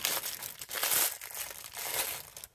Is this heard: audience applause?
no